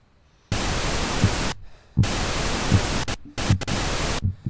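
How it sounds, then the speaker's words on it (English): TV static white noise in the indie horror game Paralyzis: two long loud bursts of hiss with a short gap, then quick choppy flickers of static cutting in and out. "Telly's not working. Who has tellies that do that anymore? White noise."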